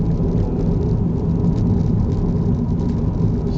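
A Peugeot 308 SW estate's small three-cylinder engine runs with a steady, close low rumble and mid-range whir, holding an even level throughout with no talk over it.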